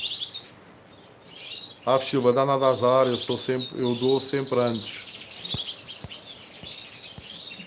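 Small birds chirp and tweet steadily in the background, with a voice speaking over them partway through and faint clicks near the end.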